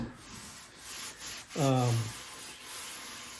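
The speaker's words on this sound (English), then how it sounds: "I'm going to get ready to do some sanding on this" Scratchy rubbing strokes of sandpaper on a wooden guitar body, close by, with a brief tonal squeak midway.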